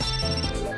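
A cartoon seashell telephone rings in a bright, electronic ringtone trill that sounds continuously through a brief moment, close and clear.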